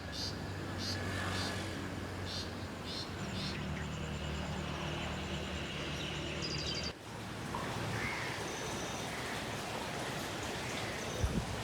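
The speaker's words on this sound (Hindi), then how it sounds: "सुबह सुबह का टाइम है और बहुत ही ज़बरदस्त बारिश लगी हुई है आज।" Heavy early-morning rain pours steadily at Mangla Dam, a dense, constant hiss that fills the whole scene without letting up, with birds calling faintly in the background.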